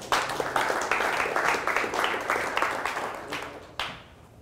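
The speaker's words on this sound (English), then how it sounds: "Give him a round of applause." An audience at a tech talk on embedded Java gives a moderate round of clapping, a steady patter of many hands lasting a few seconds before it tapers off.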